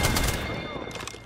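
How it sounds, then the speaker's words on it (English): Bursts of automatic gunfire during an Apex Legends arena match, loud and close, a dense rapid crackle that thins toward the end. "Bad boys are shooting at me"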